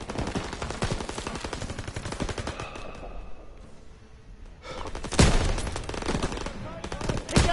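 Machine gun fire in Call of Duty WWII, loud rapid bursts rattling almost continuously, with a brief lull in the middle before heavier, thumping volleys resume, and voices shouting over the battle.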